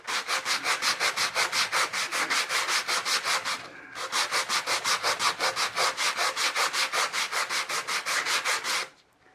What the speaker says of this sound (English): So I'm going to just keep sanding this